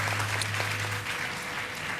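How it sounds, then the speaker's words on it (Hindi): A studio audience at a Defence Day special television broadcast claps loudly and continuously, with the dense applause sustained throughout under a low steady hum. "एक बार भरपूर तालियां"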